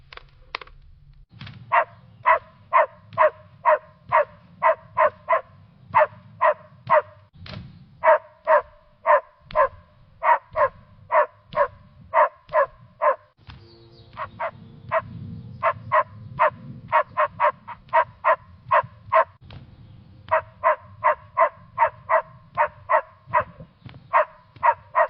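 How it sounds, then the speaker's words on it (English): A dog barks repeatedly in a cartoon-style game scene, sharp evenly spaced yaps in long rapid runs with brief pauses, loud and close, with no talk over them. "What the hell is wrong with that dog?"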